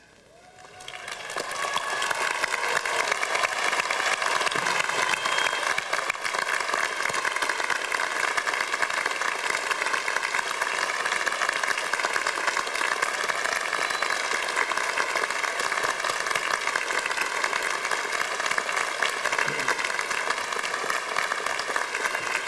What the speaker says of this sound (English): we all stand up, everyone, including the graduates, and applaud the class of